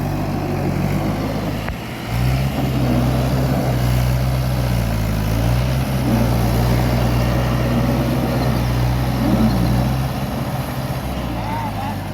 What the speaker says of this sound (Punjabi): ਇੱਥੇ ਟਰੈਕਟਰ ਦਾ ਜ਼ੋਰ ਲੱਗਣਾ ਬਾਹਰ ਨਿਕਲਣ ਤੇ